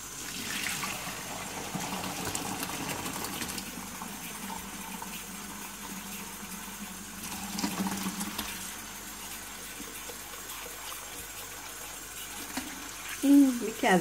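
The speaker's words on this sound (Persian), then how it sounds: "این آب جوشه که من رو برنج میریزم." Boiling water is poured over rice in a kitchen while Persian rice is being made, a steady gushing pour running for about fourteen seconds at an even, moderate level with a brief louder splash near the end.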